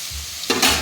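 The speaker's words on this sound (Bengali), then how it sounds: "ফোড়ন দিয়ে তাড়াতাড়ি করে মশলাটা কষিয়ে নিচ্ছি" Whole garam masala and cumin seeds are tossed into hot oil left from frying fish, and a quiet hum abruptly bursts into a loud, bright sizzle that keeps crackling up close.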